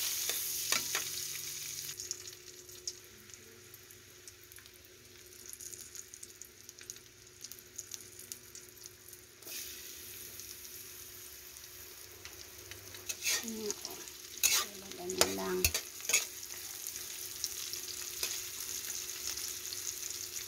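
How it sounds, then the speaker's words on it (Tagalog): Onions sauté in a small amount of oil and butter, giving a soft, steady frying hiss that stays low and even, with a few louder stirring scrapes near the end. "Magigisa na tayo ng sibuyas."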